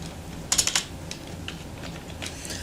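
Someone types SQL code on a computer keyboard: a quick burst of close, crisp keystrokes, then sparse scattered taps against quiet room tone.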